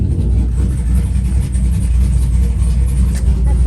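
A Trans Am's engine runs loud and close with a dense, steady rumble and slight throbbing pulses, sounding rough and unsettled over a few seconds.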